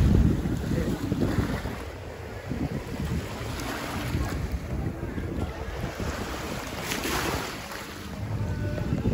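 Small Caribbean Sea waves wash against the Guayanilla shoreline in Puerto Rico, a steady surf rush buried under heavy gusting wind noise on the microphone.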